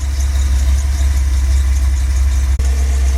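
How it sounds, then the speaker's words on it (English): A car engine fitted with a used Edelbrock 650 carburetor idles steadily up close, a loud, even low hum with a light whine that holds throughout apart from a single brief dropout near the end. "I'm just going to let it idle"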